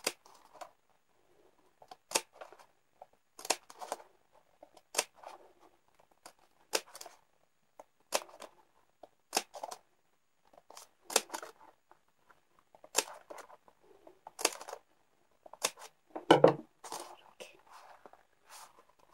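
Scissors snipping short cuts into folded craft paper for a paper cap, a series of quiet, crisp, evenly spaced snips close by, with soft handling rustles between them.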